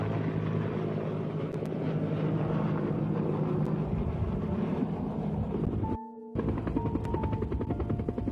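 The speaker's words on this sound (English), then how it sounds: "Prime Minister Siaga got his bird's-eye view aboard a US Air Force C-130 cargo plane" A US Air Force C-130 cargo plane in flight gives a loud, steady propeller and engine drone with dense low rumble throughout, briefly cut off near the end before the constant roar resumes.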